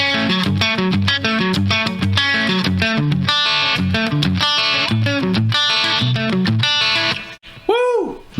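Distorted electric guitar plays a progressive metal riff with dense chugging low notes and ringing chords throughout, ending in a brief pause and a swooping effect.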